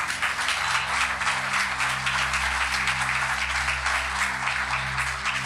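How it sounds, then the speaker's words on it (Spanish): A church congregation applauding together in a dense, sustained wave of clapping, with a low sustained organ or keyboard chord playing steadily underneath. "Aplaudo a Cristo allí"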